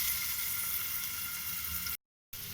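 Onion sizzles in hot oil in a pan for sambhar, a close, steady frying hiss that holds evenly and then cuts out briefly near the end.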